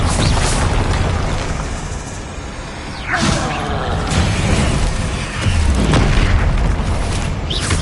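Bombarda spell explosions in the PS5 game Hogwarts Legacy burst out as several loud, dense booms and whooshing blasts over constant busy combat noise, with the heaviest impacts near the start and around the third and sixth seconds.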